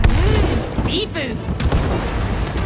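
Cannons booming in the It Takes Two video game, with heavy low thuds and blasts layered over steady game music and effects, while characters talk over the action.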